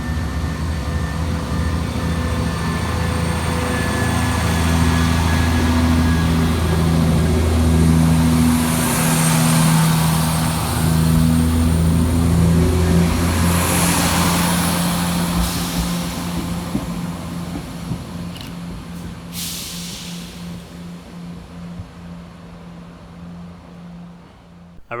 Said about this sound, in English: we see departure of 170-472, working the 1019 Northern service from Leeds through to York.